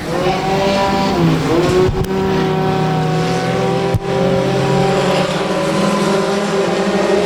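Race cars lap Rose Bowl Speedway in a loud, close, continuous engine roar, with revving pitch shifts as several cars sweep past the flag stand together.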